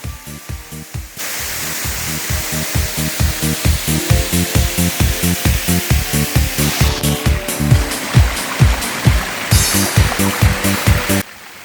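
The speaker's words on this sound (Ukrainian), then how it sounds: "Каскад водоспаду ніби розтинає сам час адже за стіною води можна побачити гірські породи" The Manyava waterfall cascades over a rock wall in the mountains, a continuous loud rushing roar broken by regular low pulsing thumps that run through most of the stretch.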